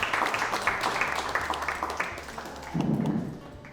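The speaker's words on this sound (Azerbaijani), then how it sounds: "Alqışlarla, bəli." A studio audience on an Azerbaijani comedy talk show breaks into applause, a short, fairly loud patter of clapping that swells briefly near the end.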